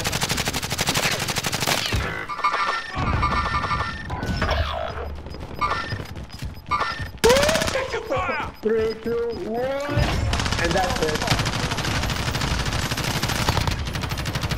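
Rapid automatic gunfire in Call of Duty Warzone rattles in loud, close bursts, broken by short pauses and shifting effects, with players talking over it.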